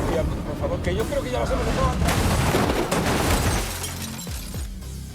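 Dense bursts of film gunfire and shattering impacts crash together in a loud, chaotic barrage as enemy shots are deflected, with a voice faintly mixed underneath.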